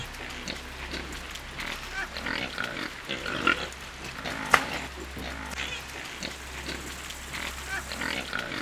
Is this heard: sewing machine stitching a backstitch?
no